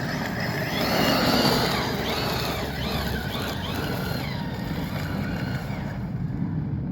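A Redcat Valkyrie MT RC truck tears across loose gravel, its electric motor whining as the tires spray stones with a gritty crunching rush that swells and then holds steady.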